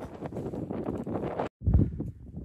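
Strong mountain wind in the Lake District buffets a microphone in heavy, rumbling gusts, broken by a brief dropout before another loud gust, with no talking.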